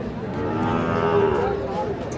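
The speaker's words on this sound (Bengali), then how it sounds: "শাহিওয়াল ষাঁড় বাচ্চা।" A Sahiwal bull calf moos at a busy cattle market, one long drawn-out low bellow lasting about two seconds, close and loud over crowd noise.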